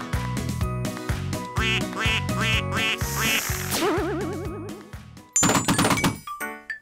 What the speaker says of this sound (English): The duck is swimming in a pool.